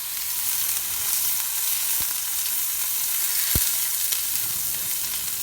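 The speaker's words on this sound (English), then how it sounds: "I am going to fry in the pan with few drops of oil" Green chilies fry in a pan with a few drops of oil, giving a steady close sizzle that runs throughout, with two sharp pops near the middle and no talking.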